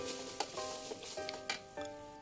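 A blended paste of shallot, garlic, onion and ginger fries in a pan with a soft, steady sizzle, broken by a few sharp scrapes and taps of stirring over a faint steady hum.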